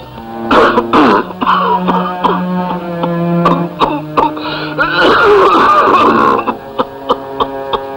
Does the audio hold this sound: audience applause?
no